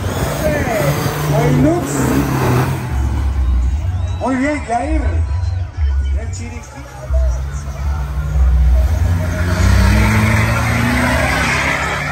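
Race trucks, a Toyota 40 against a Toyota Hilux, rev and roar at a drag racing event, their engine drone rising and falling over about twelve seconds beneath a steady murmur of crowd chatter and voices.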